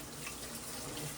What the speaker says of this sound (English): first thing you must do is wash your hands